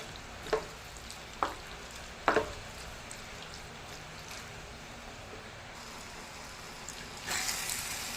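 An eggplant and tomato curry sweetened with jaggery simmers on a gas stove, giving a soft steady bubbling sizzle with a few sharper clicks and taps of a utensil, no one speaking.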